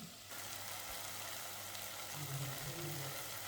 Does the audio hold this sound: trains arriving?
no